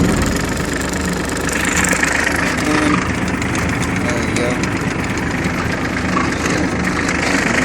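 A tractor engine idles steadily at close range just after start-up before brush hog mowing, a continuous mid-pitched rumble with vibration running loud throughout.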